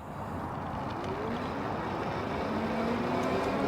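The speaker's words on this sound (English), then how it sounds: "we're gonna start our throttle only speed test in pedal assist level 5" Engwe Engine Pro 2.0 e-bike hub motor running at full throttle in pedal assist level 5, a steady rising whine under broad rolling wind and road noise.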